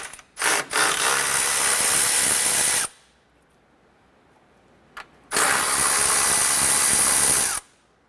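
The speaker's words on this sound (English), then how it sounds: "Use a 10mm socket and remove the two bolts on the top." A ratchet with a 10mm socket removing the top bolts on the radiator cooling fan assembly of a 2008-2012 Honda Accord, heard as two long, loud, rapid clicking bursts separated by a quiet pause.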